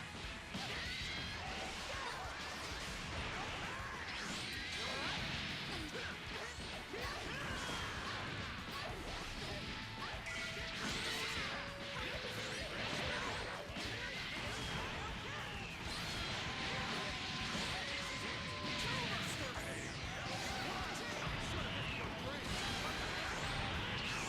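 Base Goku lands a long level 2 touch-of-death combo in a fighting video game, a rapid run of punchy hits, whooshes and crashes with energy-blast effects while someone talks over it.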